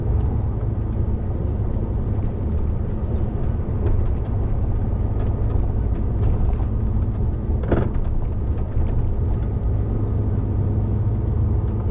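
A heavy goods vehicle's engine rumbles steadily while driving along narrow roads, with a sharp hiss of an air brake around the middle.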